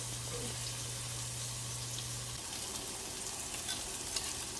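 Onions cooking down in a pan over lowered heat for shrimp scampi, with garlic just added; a steady, soft sizzle runs throughout at low level, with no talking.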